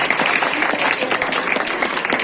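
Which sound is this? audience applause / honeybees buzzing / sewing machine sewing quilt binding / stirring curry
audience applause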